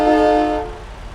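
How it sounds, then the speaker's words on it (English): A loud, low, multi-toned truck air horn in the game American Truck Simulator blasts briefly and then fades away. "I love the horn. I love the horn."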